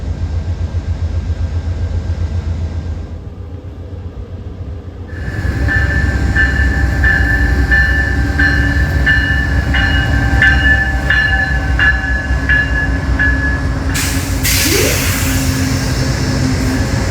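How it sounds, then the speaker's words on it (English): An Amtrak California Zephyr passenger train rumbles loudly along the rails in the snowy Sierras, with a steady low roar, a brief quieter stretch, then rhythmic clickety-clack and a sharp squeal near the end. "Today we will be traveling from the San Francisco Bay Area to New York by train, featuring the Amtrak California Zephyr"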